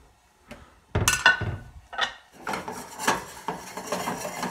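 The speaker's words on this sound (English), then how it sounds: "Get out a plate so that it's prepared." A plate taken out in a home kitchen while an omelette cooks: close clattering of crockery and metal, with sharp clinks and knocks followed by a busier jumble of rattles.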